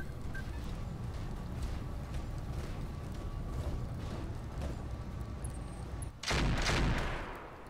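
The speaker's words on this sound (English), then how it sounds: "Nice shooting, Tex." Gunfire in the video game Roguepoint: a dense, rumbling battle din with repeated thuds, and a louder burst of shots near the end.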